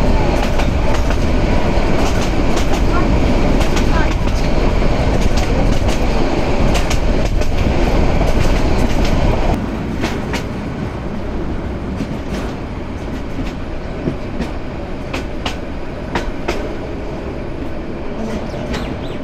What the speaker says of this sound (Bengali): ট্রেন কার্ভ নিচ্ছে বেশ ভালোই একটা